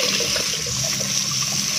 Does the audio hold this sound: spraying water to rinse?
yes